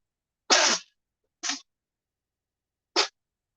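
Three sharp sneezes burst out from one person, the first longest and loudest, then two shorter ones spaced about a second and a half apart in an otherwise quiet indoor room.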